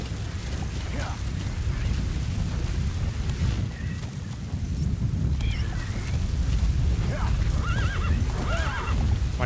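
A horse in Metal Gear Solid V gallops with a heavy, rumbling hoof rhythm underneath, while several sharp neighs and whinnies rise over it toward the middle and the end.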